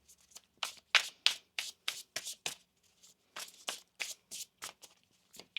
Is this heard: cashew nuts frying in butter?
no